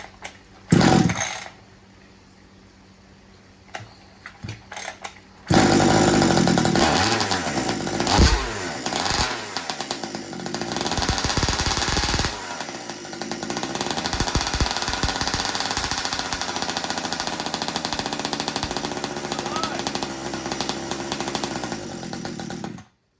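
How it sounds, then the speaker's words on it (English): A Baja buggy engine with freshly set carburettor needles fires up after a few quiet moments, then settles into a loud, steady, buzzing idle that runs on alone with slight surges. "Let me just quickly adjust this idle here, and we'll be right back, see if I can get it to sit by itself and run."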